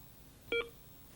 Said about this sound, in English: I'll choose a softer tone by pressing one of the buttons to the left